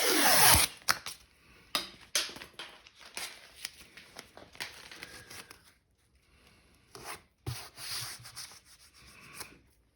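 A hand file scrapes over masking tape along the edge of a 393 Windsor engine block, giving close rasping strokes in irregular bursts separated by short pauses.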